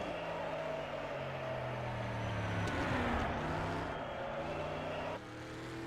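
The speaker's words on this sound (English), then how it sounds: "Here we have Scooby coming down the other side of the mountain." A race car descends a mountain road during the Isle of Man time trial, its engine a broad, steady roar heard from nearby, swelling briefly midway before dropping off sharply near the end.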